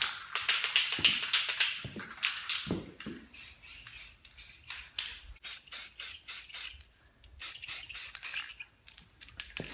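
A rattle can sprays a gloss coat onto car wheels in a garage, with hissing bursts of spray followed by quick, rhythmic tapping and clicking nearby.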